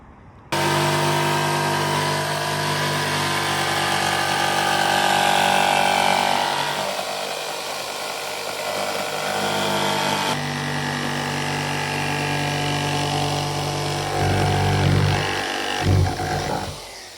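An aluminum saw cuts an aero piece for a Honda S2000, giving a loud, continuous motor whine with a grinding edge whose pitch and strain shift as the blade works through the part, then drops near the end.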